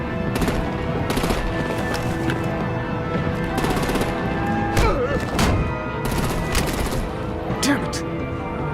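Rapid artillery gunfire rattles in Batman The Enemy Within, loud bursts of shots and booms layered with voices shouting over the barrage.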